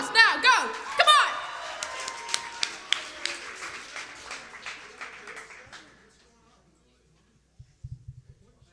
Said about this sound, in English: Marty, applause, now, go! Come on!